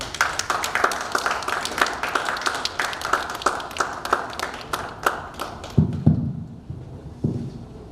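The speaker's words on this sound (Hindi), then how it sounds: "जोरदार तालियों से स्वागत करता हूँ" Enthusiastic applause welcoming a speaker at a JCI Nagvidarbha speech craft event, a steady run of sharp hand claps that thins out and trails off into a few scattered louder claps near the end.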